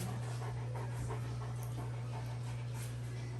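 A dog that swallowed twelve socks pants rapidly and steadily at an emergency vet, the close breathing running throughout over a constant low electrical hum.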